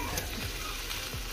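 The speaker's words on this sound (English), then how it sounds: "I'm gonna saute some garlic." Garlic sautéing in a hot pan gives a steady, close crackling sizzle that runs through the whole short stretch, with light stirring scrapes and no voices.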